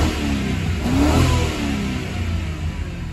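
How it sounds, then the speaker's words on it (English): A 2003 Ford Crown Victoria engine runs close by and revs up, with a steady, loud mid-pitched roar that swells and eases without letup. "Sounds like the engine's running good now."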